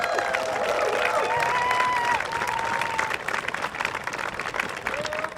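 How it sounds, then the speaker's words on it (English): Audience applause at a school band night, given for the band directors: dense, steady clapping from a crowd, loud and sustained throughout with a few faint cheers mixed in. "Can we give them one big round of applause?"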